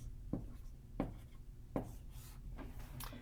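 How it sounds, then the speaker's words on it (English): A long division problem being written out by hand, a few short scratchy strokes spaced about a second apart, close and fairly quiet with no talk. "And I'll write it up here."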